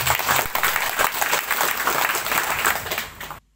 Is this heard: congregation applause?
yes